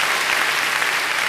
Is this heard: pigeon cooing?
no